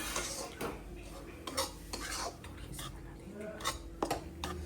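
Wheat flour halwa is stirred in hot ghee in a pan, with repeated close scrapes and clinks of a spoon against metal in an uneven rhythm and a faint sizzle underneath.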